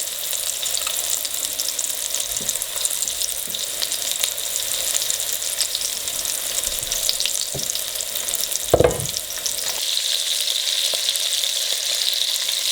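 Oxtails sizzle in a hot pan while being turned, a dense continuous frying crackle with occasional scrapes and knocks of the tongs against the pan.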